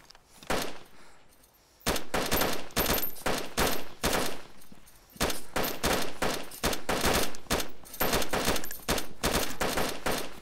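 Rapid automatic gunfire from the video game DayZ, with several long bursts of close, loud shots that come in repeated clusters after a brief quiet start.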